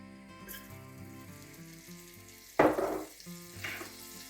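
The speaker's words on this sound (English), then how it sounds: "And we're going to go in first with some butter." Butter hitting a hot pan for a steak sauce gives a sudden sharp sizzle burst midway, then a second smaller crackle, over quiet kitchen background with faint tonal music.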